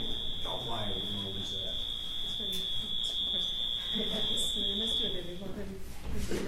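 A high steady alarm tone sounds during an alarm test inside the Capitol building, continuous and fairly loud before cutting off near the end, with several people talking under it.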